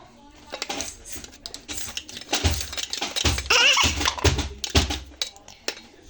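A child playing house stirs toy pots and pans, making light metallic clinks and scrapes in short, uneven bursts, with a voice heard now and then.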